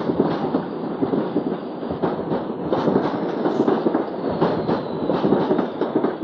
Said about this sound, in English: that's certainly our train leaving York